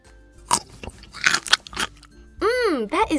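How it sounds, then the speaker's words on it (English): Biting and chewing a sprinkle-topped Christmas cake dessert gives a few crisp crunches close to the mic, mixed with talk and a high squealing voice near the end. "The cake is light and fluffy, and the sprinkles add a nice crunch to each bite"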